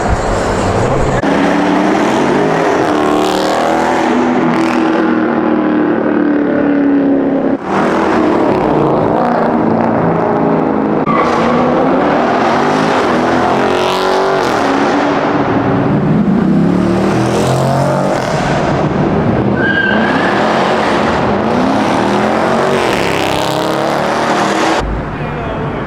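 A car doing a burnout at a Jacksonville car meet, its engine revving hard in repeated loud surges with tire squeal, while crowd noise and voices carry underneath.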